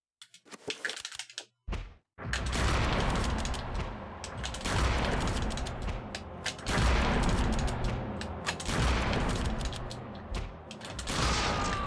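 Repeated heavy shotgun blasts in Eternal Darkness, a loud booming barrage that runs almost continuously after a brief silence, with overlapping thuds and mechanical clatter, close and without speech.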